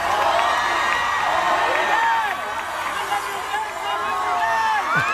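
A concert crowd at a show in Torreón cheers and shouts continuously, loud, dense whoops and screams over a sustained roar, with scattered voices rising above the mass.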